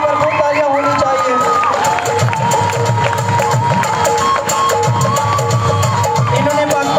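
Crowd cheering and shouting at a school Teacher Day event at Pak Pearl Feryal Campus, a loud, continuous mass of voices with children yelling, sustained for the whole stretch.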